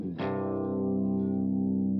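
A clean electric guitar tone through a Bogren Digital amp sim's clean channel, with a single strummed chord attacking sharply and ringing out steadily, close and sustained.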